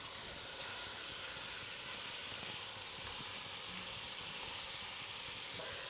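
Meat sears in a pan for a ragu, a steady, fairly quiet sizzling hiss that runs unbroken throughout with no talking.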